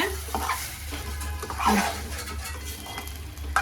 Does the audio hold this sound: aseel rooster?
no